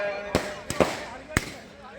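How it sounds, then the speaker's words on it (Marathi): Firecrackers bursting at a wrestling ground in Korti near Pandharpur, three or four sharp cracks spaced irregularly over a couple of seconds, moderately close, with crowd noise and talk faintly underneath. "फटाक्यांची आतसबाजी आकाड्यामध्ये तुम्ही पोचावी"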